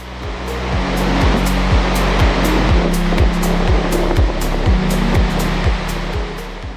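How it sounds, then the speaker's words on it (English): Dettifoss, a powerful high-volume waterfall in northern Iceland, thunders as a loud continuous roar of rushing, crashing water with a steady low rumble. "A very impressive waterfall in northern Iceland is Dettifoss."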